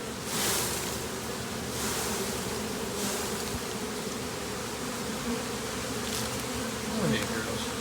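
Bees swarm loudly around a backyard gazebo, a dense steady drone of many wings close by, with faint rustling and no talk.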